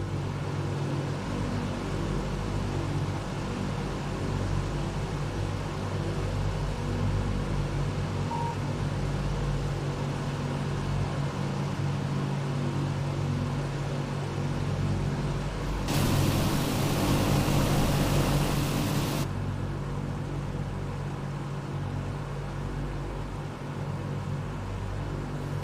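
A DC-6 propeller airliner in a flight simulator game drones steadily in cruise, a constant broadband engine hum with a brief louder hiss swelling in the middle, no voices.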